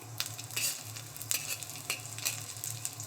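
Dried shallots stir-fry in hot oil in a wok alongside ginger slices over low heat, giving a steady close sizzle broken by repeated scraping strokes of the spatula, with no talking.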